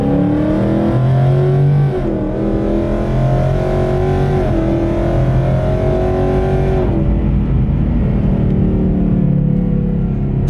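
A Ford Mustang S550 with a 10-speed automatic in sport mode accelerates hard, its loud engine note climbing through quick paddle-shifted gear changes, each shift dropping the pitch before it rises again, with no talk.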